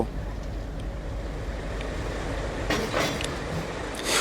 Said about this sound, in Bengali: ইঞ্জিনটি যতই কাছে আসছে, রেল লাইনের শব্দ যেন বেড়েই যায় উত্তেজনায়